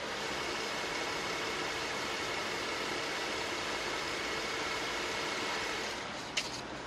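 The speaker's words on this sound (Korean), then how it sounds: "바로 엔진 소리 한번 들려드릴게요." An Infiniti M37 sedan's V6 VQ engine idles with the hood open, a steady, quiet, even hum with no revving, heard alone apart from one faint brief click near the end.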